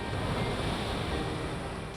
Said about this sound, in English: white sand with beautiful waves rolling over to the shore